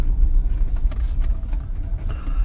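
A Toyota Prius taxi rolls along the road with a low, steady rumble of tires and cabin noise, heard from inside the car and free of talking.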